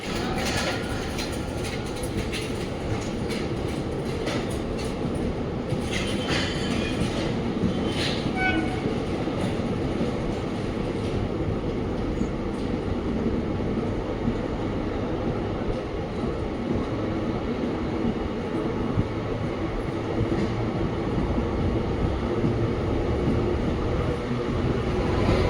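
The Ahmedabad–Yesvantpur–Chennai Central weekly superfast express rumbles past on the line between Bengaluru and Hassan, a loud, continuous roar of wheels and carriages lasting the whole stretch, with faint clicking of the rails on top.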